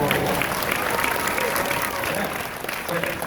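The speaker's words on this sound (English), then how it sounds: "If you all clap at that answer, you can." A crowd at a San Diego Comic-Con 2016 panel for the Xbox game Gears of War 4 claps continuously, a dense wash of applause with some voices mixed in.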